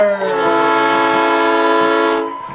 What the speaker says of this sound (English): let's let the train go by right here.